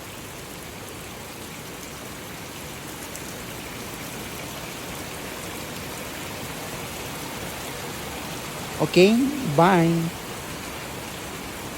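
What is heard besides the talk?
heavy rain falling on a nipa hut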